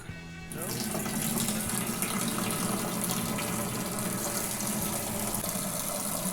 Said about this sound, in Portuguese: só abrir a torneira